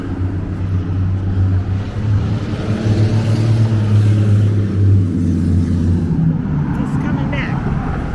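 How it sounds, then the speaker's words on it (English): A very loud car drives past on a road with a grass median, its deep engine drone rising and sliding in pitch as it nears and moves away, heard outdoors from close by. "He's just a very loud car"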